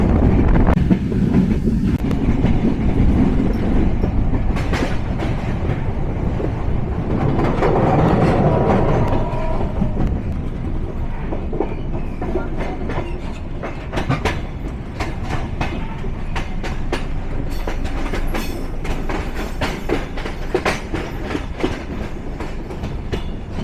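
The Ekota Express intercity train rolls steadily along the rails from Dhaka toward Tangail, Bangladesh, with continuous rumbling and rhythmic clicking of wheels over track joints, fairly close and loud throughout.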